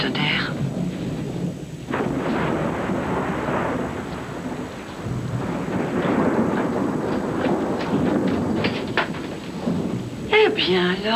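Thunder rumbles through a storm, a sustained low roar with broad noise across the whole clip, louder bursts midway, and voices and a brief call near the end.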